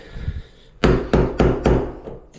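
Four loud, sharp metallic hammer strikes in quick succession, each ringing briefly, after a short stretch of quieter handling noise.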